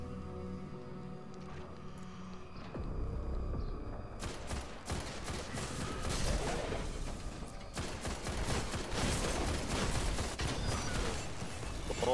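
Rapid gunfire bursts from the video game Destiny, including shotgun blasts, crackle through a dense, continuous stretch of in-game combat noise after a quieter opening.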